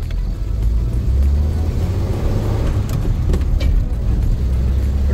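A 1948 Fluid Drive DeSoto Deluxe drives along with a steady, loud low engine and road rumble from inside the car, continuous throughout with no talking.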